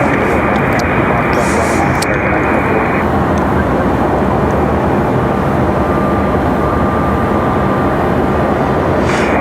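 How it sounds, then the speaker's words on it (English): A Delta jet airliner departing Raleigh-Durham International Airport gives a loud, continuous broadband roar that holds steady throughout. "Looks like we got a Delta getting ready for departure"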